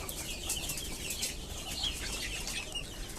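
Desi chickens, young birds being raised for the coop, cluck and flap their wings in a continuous busy, noisy rustle, fairly close, with no one talking.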